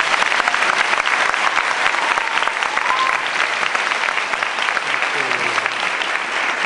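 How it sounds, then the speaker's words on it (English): Audience applause fills a morning school ceremony, steady dense clapping from a crowd heard throughout, with a few faint voices and whoops mixed into the sustained ovation. "Let's give him a round of applause."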